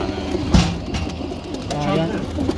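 A pet pigeon coos nearby with low, throaty rolling calls, and a sharp thump sounds early on. Someone speaks Turkish under and between the coos.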